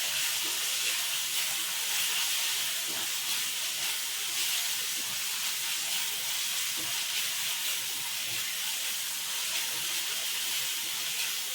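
Garlic and chili paste sizzles in hot oil with onions and tomatoes for pav bhaji khichdi, a steady, even hiss of frying that runs on without pause.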